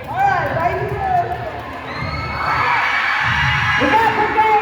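A high school gym crowd at a pink-out pep rally cheers and whoops for the golf team. The yelling is loud and sustained, with the noise swelling in the second half.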